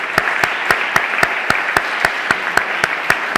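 Strong applause for the Casa África team at a panel on culture and stereotypes, with steady dense clapping and a few louder periodic claps punctuating it, close and continuous throughout.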